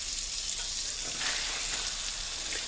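A New York strip steak sears in butter and olive oil in a hot cast iron skillet, giving a loud, steady, crackling sizzle that fills the whole moment without talk.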